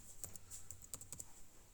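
A computer keyboard is being typed on at a Linux terminal: a short, faint run of light keystroke clicks, slightly irregular in rhythm, with no voices over them.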